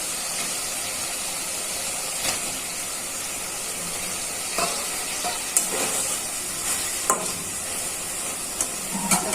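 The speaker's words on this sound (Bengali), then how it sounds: "এখন মাছটা ভালো করে কষিয়ে নিই।" Rui fish pieces sautéing in spice masala in a pan, a continuous hissing sizzle with intermittent scraping and clacking strokes of a spatula, fairly close, no one talking.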